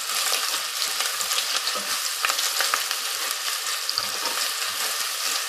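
Spices frying for nihari in a pot, a steady loud sizzle with scraping stir strokes running throughout, no talking.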